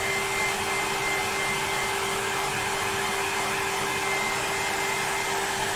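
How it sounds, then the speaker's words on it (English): A household hairdryer blows steadily on fresh paint during a colouring demonstration, a loud continuous whirring roar with a steady tonal hum, unbroken and alone for the whole stretch. "no demonstration would be the same unless we use Mrs. Oliver's hairdryer"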